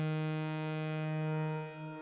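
A sustained electric guitar note rings with a rich harmonic tone and a washy reverberant tail, holding steady before slightly fading.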